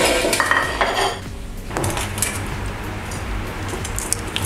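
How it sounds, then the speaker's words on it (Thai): Garlic chicken wings being moved from an air fryer basket onto a plate: close clinks and scrapes of utensils and dishes, busiest at the start, then quieter handling with low background noise. "เดี๋ยวผมจะเอาใส่จานครับให้เรียบร้อย"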